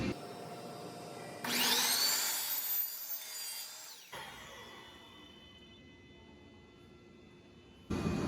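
A saw cuts through vista screen in a loud rasping burst of about three seconds, followed by a quieter ringing hum and a brief final scrape.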